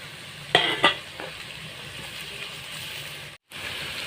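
Ginger-garlic paste sizzling in a pan with fried potatoes and onions for a goat meat curry, with a couple of sharp scraping stirs early on and then a steady, soft frying hiss.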